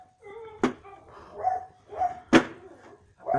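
A dog barks in two sharp, loud yelps with softer whines and vocal sounds between them, close by in a quiet room.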